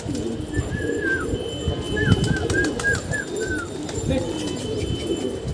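Pigeons perched on a rooftop canopy and bamboo poles coo in soft repeated rolling calls, several in a row, over a steady gusty wind and faint background noise.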